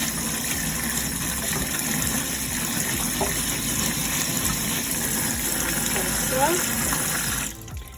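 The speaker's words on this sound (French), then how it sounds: "les lentilles sèches, on va d'abord les nettoyer. Donc, on va les rincer" Dry lentils being rinsed under running tap water in a colander, a steady continuous gush of water throughout, close and fairly loud, cutting off just before the end.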